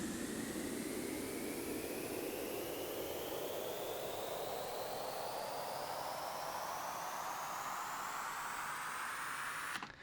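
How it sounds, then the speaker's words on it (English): A white noise riser sweeps steadily upward in pitch for about ten seconds in an electronic music track, building to the drop and cutting off abruptly at the end. "We also have this white noise, which I believe I showed over here."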